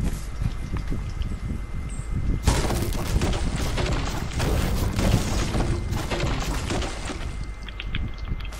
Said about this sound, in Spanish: Se escucha disparo de aquí, ¿eh?